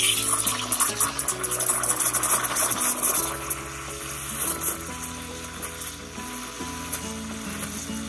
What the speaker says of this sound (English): So I hit the milk with some air. That high-pitched squealing is what you're looking for.